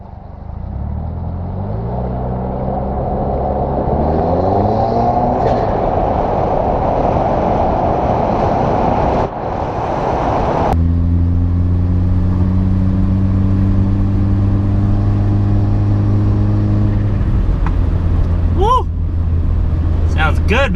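A 2017 Subaru Forester XT with an AEM intake and Boomba blow-off valve revs up and falls back, rising engine tones over steady road and traffic noise, nearby and loud throughout.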